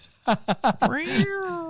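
Cat meowing: a few quick short voiced chirps followed by one longer drawn-out meow, close and fairly loud, with people's voices mixed in around it.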